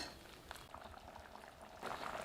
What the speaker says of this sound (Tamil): இப்போ குருமா ஒரு அஞ்சு நிமிஷம் கொதிக்க வச்சுட்டுங்க